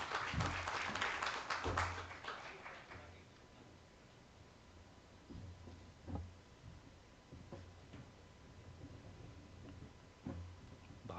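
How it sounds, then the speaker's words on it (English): Audience at a maritime security panel applauding a speaker, moderately loud clapping that fades after about three seconds into quiet room tone with a few faint taps. "Let's give him a round of applause,"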